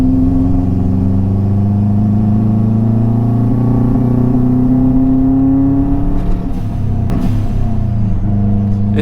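A Subaru WRX engine idles steadily with a low hum, nearby and loud, with a brief uneven stumble near the end; the car is running poorly despite sounding fine.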